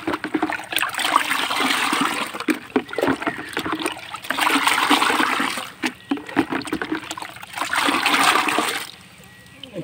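Water mixed with vaccine is poured and splashed into eleven small drinking pots for 500 broiler chickens, in three long, loud pouring bursts separated by short pauses, with talk over it.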